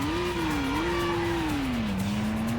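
A video game car from Stuntman swings through a handbrake turn, its engine droning steadily while the tires squeal in a drawn-out, wavering tone. The sound is loud and continuous.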